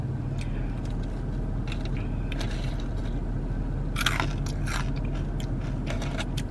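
A bite into a Wendy's Loaded Nacho Burger topped with crunchy corn nuts gives a few close, faint crisp crunches and chewing sounds, with no talking.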